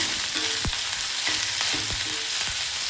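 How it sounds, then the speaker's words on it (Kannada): Capsicum and tomato frying in a pan, a steady close sizzle broken by a few sharp scraping stirs of a utensil, with no voices. "ಜಸ್ಟ್ ಒಂದು 30 ಸೆಕೆಂಡ್ ಈ ಥರ ಫ್ರೈ ಮಾಡಿಕೊಂಡ್ರೆ ಸಾಕು."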